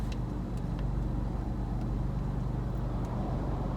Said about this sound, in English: We'll just leave the car running for a little bit